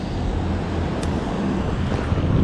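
Steady, buffeting wind rushes past at a waterside fishing spot as a crosswind picks up, a constant low roar without pause and with no speech.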